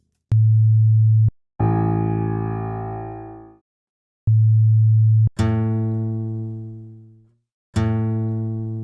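A pure sine tone at a string's fundamental frequency sounds in two steady one-second beeps. Each beep is followed by a plucked guitar-like note that rings out and fades, and a final plucked note closes the sequence.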